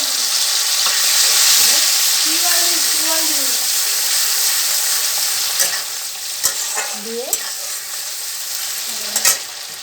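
Ginger paste, chopped green and red chillies and tomato sizzle loudly in hot oil with a nigella-seed tempering. The hiss is continuous, broken by occasional stirring scrapes and faint voice-like sounds.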